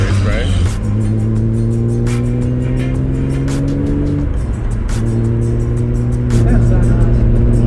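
A Toyota MR2 with a turbocharged 3SGTE engine runs with a deep, steady exhaust note that holds, dips, then rises again, loud and close, while people talk over it.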